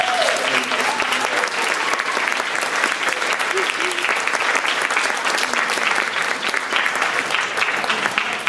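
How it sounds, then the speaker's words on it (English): An audience at a high school band concert applauds, dense sustained clapping filling the hall throughout, loud and steady with a faint murmur of crowd beneath. "So can you give them a round of applause?"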